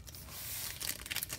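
A 2020 Panini Select football trading card pack torn open by hand, a close, quick crinkling and ripping of foil wrapper lasting about a second.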